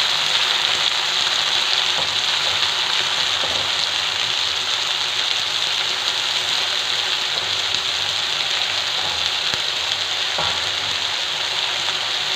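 Gokhru (puncture vine) greens sautéing with onion in a pan give a steady, loud frying sizzle with a broad hiss that runs unbroken throughout, a few faint stirring knocks underneath.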